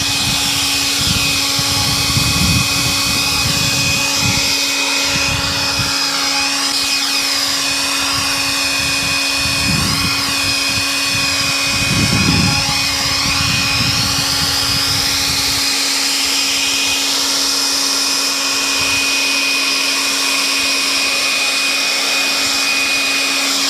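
A Greenworks G-MAX 40-volt battery leaf blower running in a garage, a loud continuous whine with a steady high tone and a low rushing airflow that surges briefly a few times, no voices.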